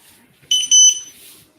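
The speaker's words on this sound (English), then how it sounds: "When you hear the beep, breathe out." An electronic exercise timer gives a short, bright, high-pitched beep in two quick pulses during a breathing and core-stability workout, loud and clear over a quiet room.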